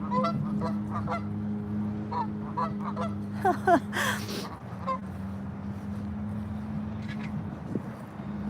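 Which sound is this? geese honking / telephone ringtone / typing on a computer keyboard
geese honking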